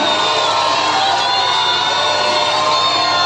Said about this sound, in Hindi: कोई चिल्ला सकता है हालेलुया 3 बार ऊंची आवाज में